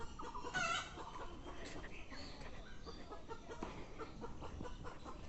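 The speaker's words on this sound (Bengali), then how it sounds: "একটি মুরগি, সে আওয়াজ করতেছে" A chicken clucks near an open prayer ground beside a garden, with brief sharp calls early on set against steady outdoor background noise and some faint voices.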